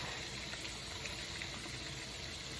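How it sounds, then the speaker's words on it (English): A kitchen tap runs for hand washing before baking, a steady, even hiss of flowing water that continues unbroken with no one talking. "So let's get the water on, feel the temperature, and let's get some soap."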